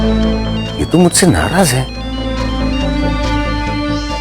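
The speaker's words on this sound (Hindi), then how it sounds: "भावना जी मुझे फोन क्यों कर रही हैं?" A mobile phone ringtone plays loudly with a warbling electronic melody while a voice speaks over it, then the tune continues steadily and more faintly in an indoor domestic setting.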